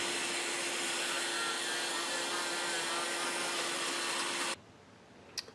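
Steady, loud whine of a rotary tool driving a 60 grit abrasive against the port of an LS cylinder head during porting, running continuously for several seconds and then cutting off abruptly, leaving a few faint clicks.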